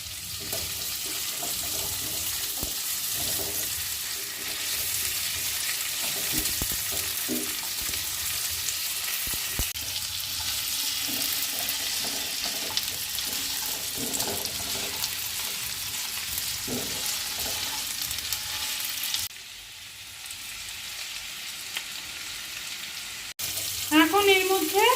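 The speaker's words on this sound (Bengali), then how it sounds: "দিয়ে একটু ভাজা ভাজা করে নেব।" Cut potato pieces frying in oil in a pan while cooking broken wheat pulao, a steady loud sizzle running nearly throughout with occasional stirring scrapes, briefly quieter near the end.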